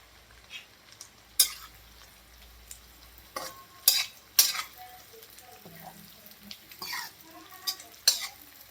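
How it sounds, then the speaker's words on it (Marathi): Cashews fry in oil in a pan, a continuous sizzle broken by repeated sharp scraping and clinking strokes of a spoon stirring against the pan. "आता काजू तळून घेणार आहे मी"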